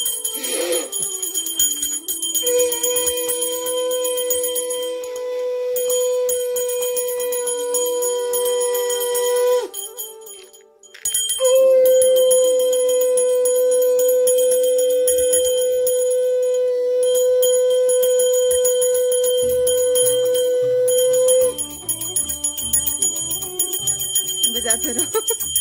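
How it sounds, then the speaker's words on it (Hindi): A bell is rung repeatedly at home to welcome a newborn baby girl, giving long, bright, sustained ringing tones that break off briefly midway and then resume, with faint voices in the background. "घंटी बुआ आप बजा दो।"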